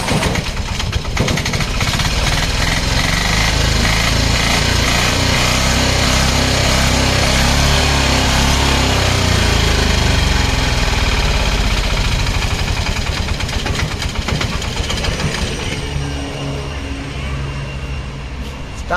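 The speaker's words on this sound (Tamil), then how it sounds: "செல்ஃப் போடுறேன் பாருங்க" A 2007-model car's engine is started with the self-starter and settles into a loud, steady idle, its dense rumbling drone persisting close by for the whole stretch.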